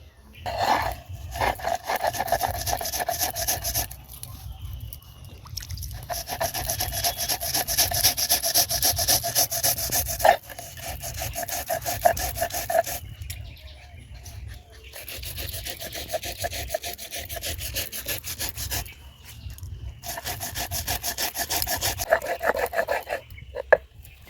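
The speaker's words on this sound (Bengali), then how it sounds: "এই বাকি সবজিগুলো আমি সব কেটে নেব" A knife chops and scrapes through mixed vegetables on a cutting board for a Bengali shukto, giving fast, steady rhythmic strokes close up, broken by short pauses between batches.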